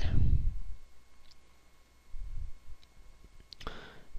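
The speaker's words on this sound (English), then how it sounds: "Okay, so now click next." A computer mouse clicks the Next button during a Virtualmin and Webmin VPS setup, giving a brief, sharp click near the end over a faint low room hum, with no talking.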